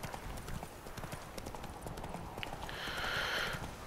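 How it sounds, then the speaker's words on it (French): Horse hooves in The Witcher 3 video game, a steady rhythmic clip-clop of a walking horse at moderate distance, with a brief higher tone near the end. "Voilà, un cheval."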